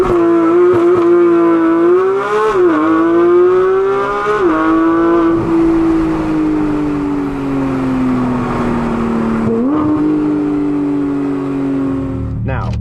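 A Porsche 911 GT3 of the 992.1 generation revs its engine toward 9,000 RPM, a loud rising howl with several shift dips and a long sustained pull, with someone talking over it.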